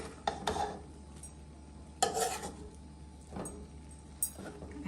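Chicken fried rice is flipped over in a pan. A few distinct scraping clanks of a utensil against the metal sound close by between quieter moments, over a faint sizzle.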